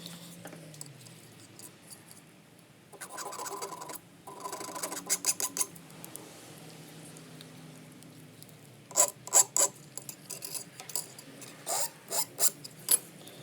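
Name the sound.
filing a burr off an engine piston ring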